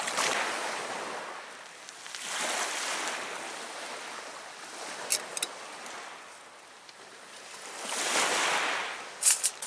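Lake Superior waves wash onto the shore in slow surges, each swell rising and falling over a few seconds, with a faint breeze and brief clicks near the microphone.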